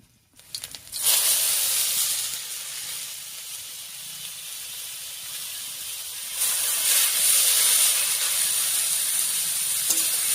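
Giant taro (man kochu) stalks are dropped into hot oil and sizzle with a loud, bright, steady hiss that swells again partway through, close and without talk.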